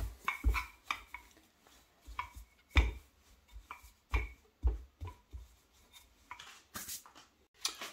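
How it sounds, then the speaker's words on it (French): Doughnut dough being turned over and handled on a floured surface, giving a series of soft slaps, thumps and rubbing sounds at close range in an irregular rhythm, with no talking. "Attendez, je vais retourner ma pâte"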